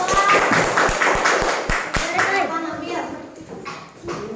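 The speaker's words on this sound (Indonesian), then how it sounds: "Tepuk tangan untuk kelompok 2." Children in a primary school classroom clap in unison for a class group, about eight sharp rhythmic claps that then fade into scattered claps and children's chatter.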